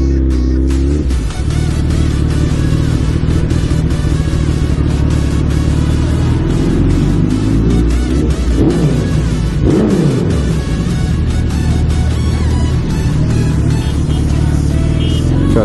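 Suzuki Hayabusa motorcycle engine revving hard inside a tunnel, a loud continuous roar with rising and falling pitch that fills the whole stretch, echoing and unbroken, with no voices over it.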